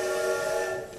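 Sustained train whistle or horn sound effect played during a community theatre stage production of The Music Man, a steady tonal blast held for the full second at fairly strong level with no voices over it.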